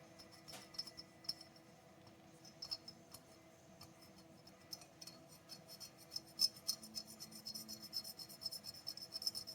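Round rotary tool grinding and smoothing the port of a Homelite Super XL chainsaw, a steady low whine with faint scratchy rasping and tiny clicks that grow busier toward the end.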